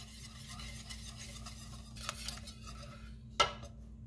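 Bread pudding ingredients being stirred with sugar in a bowl: quiet scraping and stirring, a couple of soft clinks, then one sharp utensil tap against the bowl, over a steady low hum.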